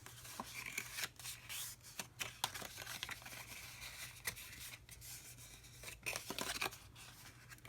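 Card stock is folded along its straight score lines and burnished, giving soft intermittent rubbing, scraping and crinkling strokes at close range, fairly quiet, with no talking.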